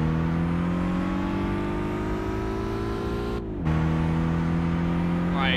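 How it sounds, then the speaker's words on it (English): An Alfa Romeo 147 driving in Gran Turismo 5, its engine holding a steady drone that dips briefly at a gear shift before climbing again, loud and close. "And we're in a 147 Alfa Romeo."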